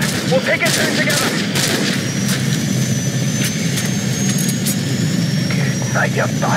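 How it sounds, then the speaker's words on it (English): Enemy helicopter in the Call of Duty 4: Modern Warfare video game, its steady rotor and engine roar running loud throughout beneath dense bursts of gunfire and shouted voices. "Incoming helicopter! Snipe the bastard!"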